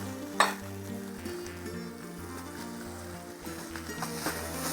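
Boiled cauliflower, green peas and carrots are stirred in a hot pan for pav bhaji, giving a steady sizzle with occasional utensil knocks over background music.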